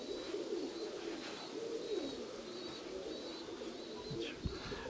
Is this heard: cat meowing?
no